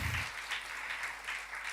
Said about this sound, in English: Big round of applause one more time for Gina.